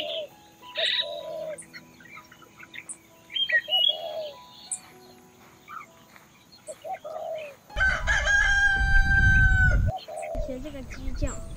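A rooster crows loudly on a rural hillside. The harsh, drawn-out call comes near the end, after scattered bird chirps and brief voices.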